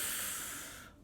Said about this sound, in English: Let's do 2 or 3 exaggerated sounds with breath